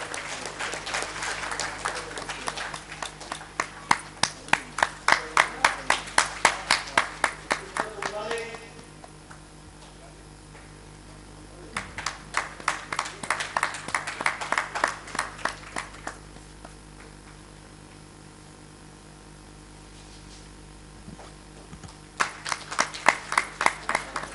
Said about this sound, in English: let's not stop the applaud for these achievers, please.